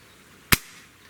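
A single sharp crack from a Barra 1200 break barrel air rifle, close and clear, with a short decaying tail and quiet room background around it.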